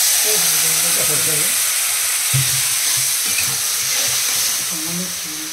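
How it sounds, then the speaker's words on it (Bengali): A little water poured into bhetki fish masala frying in a pan sets off a loud, steady sizzle and hiss, with a voice talking over it throughout. "এবার সামান্য জল দেওয়া হচ্ছে"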